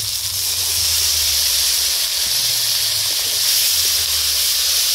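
Spiced water sizzling and hissing in a hot pan of fish curry with potatoes, onion and tomato, a steady close broadband hiss throughout with no talk.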